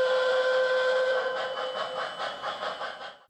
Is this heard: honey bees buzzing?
no